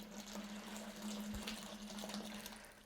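Boiling water poured from a kettle down the length of a section of synthetic hair extensions, a steady soft pouring and trickling wash heard close and alone, with a constant low hum underneath.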